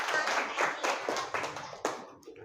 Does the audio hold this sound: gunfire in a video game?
no